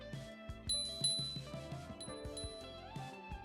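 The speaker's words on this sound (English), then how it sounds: "there is definitely a nice, loud, ergonomic, easy to get to bell to indicate when you're coming by people" Handlebar bell on a Hiboy U3 electric bike rung several times in quick succession, giving bright metallic dings over a tonal background, loud and close.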